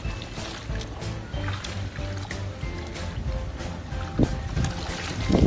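Laundry is rinsed by hand in a basin of clean water, producing close, irregular sloshing and splashing with occasional sharper splashes and dripping.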